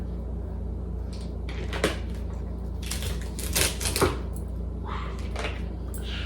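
A knife cuts celery stalks for juicing. A few crisp, close crunching cuts are heard over a steady low background hum.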